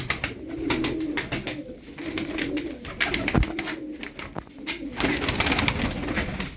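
Pigeons cooing in soft, repeated calls amid a busy outdoor bed of flapping and rustling, fairly close, with no talk.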